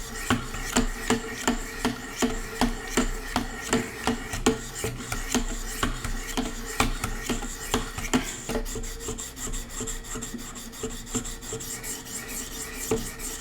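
A knife is drawn across 600-grit stones on a Wicked Edge Pro sharpener, making a rhythmic rasping scrape repeated steadily about once a second, close up with no talk.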